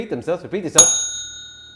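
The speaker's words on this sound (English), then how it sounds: "If they stay silent, we hit the bell." During a quiz game, someone talks briefly and then a single bright bell strike rings out loud and close, its clear metallic tone fading slowly over the next second.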